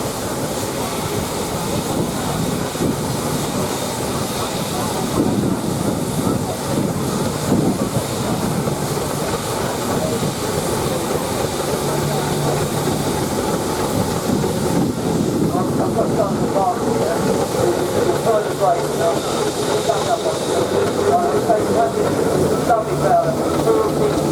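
A steam road engine at a steam rally in Tinkers Park runs steadily for a long stretch, its hissing and rhythmic mechanical clatter continuous and fairly close, with voices talking now and then in the background.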